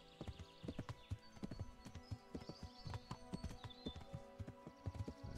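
Horse hooves clip-clop in a steady walking rhythm in the medieval game Kingdom Come: Deliverance, with an occasional whinny mixed in at moderate distance and no talk.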